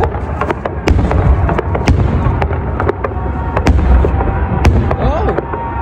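Dense fireworks display in Greenland crackling and popping continuously with many sharp bursts in quick succession, loud and close, with people talking and exclaiming underneath.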